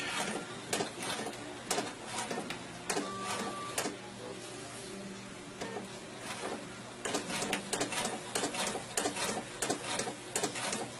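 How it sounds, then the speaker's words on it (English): A sewing machine runs in rapid mechanical bursts, starting and stopping, its fast clattering stitches close and steady during each run. "Now the sewing machine isn't pulling it"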